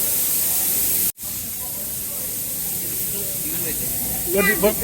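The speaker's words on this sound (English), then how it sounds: "mist is spraying everywhere" Water mist spraying over plants inside a botanical greenhouse at Kew Gardens, a loud steady hiss throughout that cuts out for an instant near one second and then resumes, with voices entering faintly toward the end.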